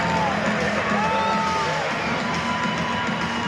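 A stadium crowd cheers and whoops at Grayson Stadium in Savannah, Georgia, during a Savannah Bananas Banana Ball game, a dense, steady roar of shouting fans and babble filling the whole moment.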